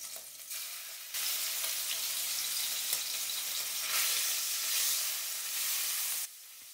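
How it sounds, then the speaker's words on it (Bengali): Shrimp sizzle loudly in hot oil in a pan, a continuous crackling hiss that swells and eases slightly before cutting off. "আরো একটু তেল দিয়ে ম্যারিনেটেড চিংড়ি মাছগুলোকে দিয়ে হালকা ভেজে তুলে নেব।"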